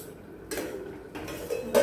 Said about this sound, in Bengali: এবার ঢাকা দিয়ে দিচ্ছি, সিদ্ধ হোক কিছুক্ষণ।